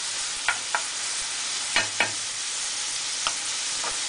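Onion and garlic frying in oil in a wok, a steady hiss of sizzling with a few scattered spatula taps against the metal, close and even, no voices.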